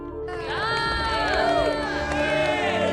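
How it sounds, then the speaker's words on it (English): Crowd applause and cheering at a presidential declaration in the video game Republic: The Revolution, a loud sustained roar of many voices and clapping that rises after a brief quiet start, with overlapping shouts and whistles through it. "Karasov is receiving extensive applause"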